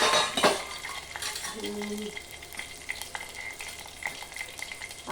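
Tomato seeds dropped into hot oil in a pan, a crackling sizzle with light clinks of a spoon against metal, steady and close, no talk.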